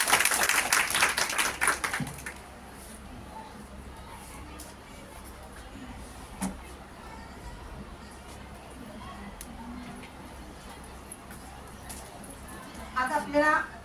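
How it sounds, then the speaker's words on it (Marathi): An audience welcoming a lecturer bursts into brief applause, with dense clapping in the first couple of seconds. A quieter room with a speaking voice follows, then a short second burst of clapping near the end. "त्यामुळे मॅडमांचं आपण टाळ्या वाजवून स्वागत करू."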